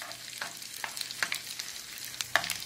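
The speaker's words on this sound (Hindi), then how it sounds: "अब इसमें जो हमने गोंद लिए हैं इसे हम थोड़ा थोड़ा इसमें डालेंगे और इसे हम तलेंगे" Edible gum (gond) frying in hot ghee on a low flame, a soft steady sizzle with small crackling pops and a few stirring clicks, close and fairly quiet with no talk.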